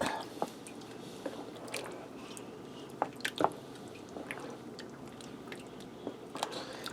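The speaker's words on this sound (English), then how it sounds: "Give it a stir, turn it up a little bit." Water being stirred into a stew in a pot, giving faint wet squishing and sloshing with scattered small spoon clicks against the pot, quiet and close.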